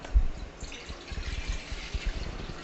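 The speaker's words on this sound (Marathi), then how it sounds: "यातील आपण हे पाणी काढून टाकणार आहोत" Water is poured off soaked rice, trickling and dripping unevenly in soft splashes with a few low thuds, close and fairly quiet with no voices.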